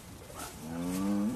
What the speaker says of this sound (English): these cows are pretty lively, aren't they?